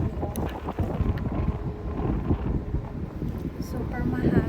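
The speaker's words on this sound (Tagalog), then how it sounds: "Super mahangin." Strong wind blows at a beach at Lennox Head and Byron Bay, a loud gusty rumble buffeting the microphone throughout. A person talks over it.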